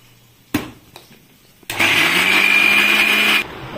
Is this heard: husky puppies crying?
no